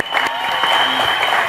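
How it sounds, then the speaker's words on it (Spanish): A short burst of steady applause rises from a crowd at a Bible quiz show, loud and even throughout. "Un aplauso, por favor."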